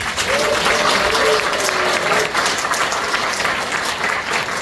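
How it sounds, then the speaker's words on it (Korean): Audience in a hall applauding after a lecture at a labour committee launch event, dense sustained clapping from many people filling the room, loud and continuous with faint voices mixed in. "다시 한번 큰 박수 부탁드립니다"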